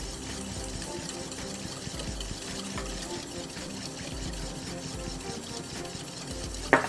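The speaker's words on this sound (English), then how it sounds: "we will start adding our oil very slowly and whisking very quickly to get that emulsion to come together" Rapid whisking of oil drizzled slowly into a bright vinaigrette, a steady wet swishing and stirring that runs continuously at close range, with a brief clack near the end.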